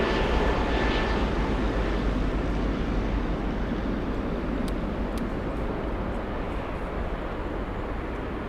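A jet airliner from Detroit is heard at Frankfurt airport as a loud, even roar that fills the whole stretch and fades slightly as it goes.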